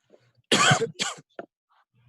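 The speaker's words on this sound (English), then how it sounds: "Sorry, coughing" A few harsh coughs close by at a city commission meeting, two strong bursts followed by a smaller one, then quiet.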